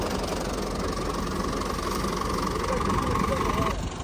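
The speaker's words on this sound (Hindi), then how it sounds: "अब स्टार्ट करवाते हैं ट्रैक्टर।" A farm tractor runs steadily during a wheat harvest with a thresher, its engine a continuous loud mechanical drone that holds even throughout before dropping off slightly at the end, with no voices over it.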